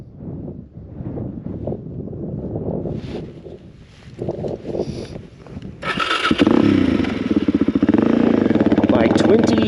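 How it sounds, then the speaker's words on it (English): A 20-year-old Suzuki DRZ 400 dirt bike with freshly reworked carburetor and new tires fires up partway through after someone talks, then settles into a loud, close, steady thumping idle with wind buffeting the microphone. "And might as well start the bike and get going."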